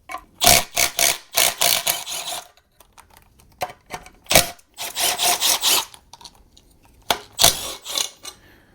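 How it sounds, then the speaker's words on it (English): Metallic clicks and ratcheting rasps from wrenching a sensor off a 302 small-block Ford engine during a teardown, coming in close, loud bursts separated by short pauses, with no talking. "this sensor is hiding a bolt, so I do have to take this sensor off"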